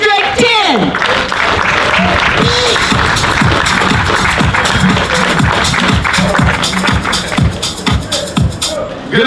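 Crowd at a San Francisco City Hall rally for Black trans lives claps and cheers loudly for a district supervisor, a dense sustained applause with shouts and scattered voices running throughout.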